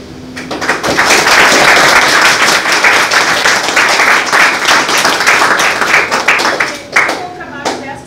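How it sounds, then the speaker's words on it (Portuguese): Loud, close audience applause at a Brazilian presentation, a dense sustained burst of many clapping hands that rises quickly, holds, then thins out with a few last claps and some voices near the end. "eu gostaria de uma salva de palmas para ela"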